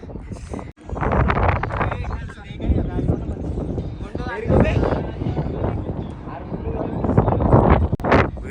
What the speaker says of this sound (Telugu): క్రేజీ గాలి వస్తుంది.